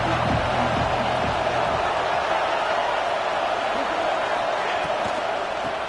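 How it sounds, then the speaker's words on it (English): A video game stadium crowd in College Football 26 roars steadily as fans rally behind the defense on third down, a dense, continuous wash of cheering and noise throughout. "Decibels rising as the crowd gets behind this defense on 3rd down"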